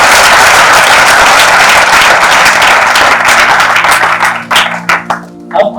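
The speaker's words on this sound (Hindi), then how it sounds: "हम एक बार टेक्निकल टीम के लिए ताली बजाएं" An audience at a seminar hall event applauds the technical team in a loud, dense burst of clapping. It thins out toward the end into scattered individual claps.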